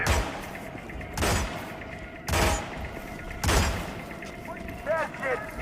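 Gunfire booms in the video game Hitman, four heavy shots spaced about a second apart with reverberating tails, over a low background and a short voice near the end.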